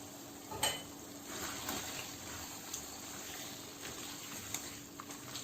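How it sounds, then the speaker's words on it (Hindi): Green chillies, chopped ginger and fresh coriander frying in a karahi give off a soft, steady sizzle, with occasional light clinks and stirring scrapes. "बस 1 मिनट में इनको पकाऊंगी ताकि मिर्चें थोड़ी सॉफ्ट हो जाएं"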